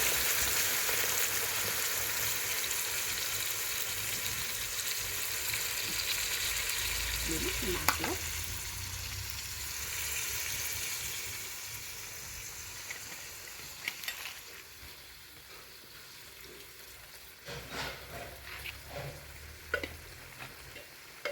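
Tamarind mixture sizzling and frying in a hot pan while avalakki upma is cooked in a village kitchen, a steady hiss with occasional stirring knocks and scrapes, fading somewhat toward the end.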